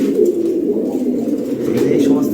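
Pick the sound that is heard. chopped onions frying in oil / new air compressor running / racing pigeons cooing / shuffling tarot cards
racing pigeons cooing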